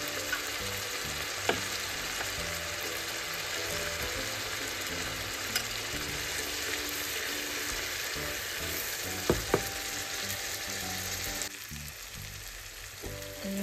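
A spice paste for raw mango pickle fries in a pan, a steady dense sizzle with occasional scraping clicks from stirring, continuous and close, easing slightly near the end.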